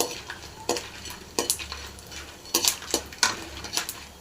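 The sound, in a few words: frying dried turkey berry (sundakkai) vathal in hot oil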